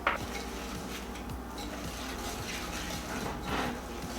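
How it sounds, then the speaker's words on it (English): A whisk beats chocolate chip cookie ingredients vigorously in a bowl for a Claire Saffitz recipe, making fast, evenly spaced scraping strokes that run continuously and close by. "now I'm supposed to vigorously whisk"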